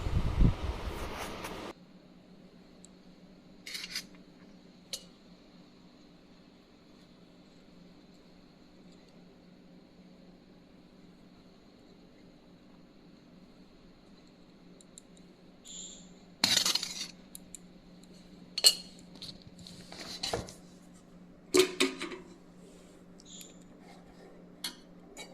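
Rice and fried bitter gourd being served onto a plate: sparse, scattered clinks of a utensil against the dish after a quiet stretch, with a faint fan hum underneath and clusters of light scraping taps toward the end.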